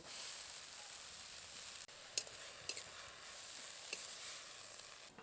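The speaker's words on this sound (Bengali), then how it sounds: "কড়াইতে অল্প জল দেব এবার সজনে ফুলগুলো দিয়ে দেব" Drumstick flowers hit a wok with a little water, producing a constant close hissing sizzle broken by a few brief clinks and scrapes of stirring, with no voices.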